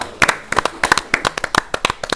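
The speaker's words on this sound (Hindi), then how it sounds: "जोरदार तालियां" Hand clapping at a quiz show, sharp separate claps in an uneven burst, fairly loud and close, from a small group rather than a dense crowd.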